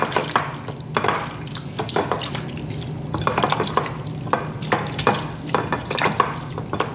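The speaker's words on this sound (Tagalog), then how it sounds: "Imarinate muna natin ng 30 minutes at ating haluin." Adobo marinating in soy sauce, cola and black pepper is stirred in a pot, giving a steady wet sloshing with irregular clinks and slaps, close and moderately loud with no talk.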